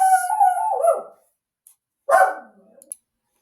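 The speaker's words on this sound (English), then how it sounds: "Sorry for that loud interruption. That was our puppy Pip." A puppy named Pip barks and howls loudly at someone walking past the house, a sustained howl first, then a sharp bark burst after a short silence.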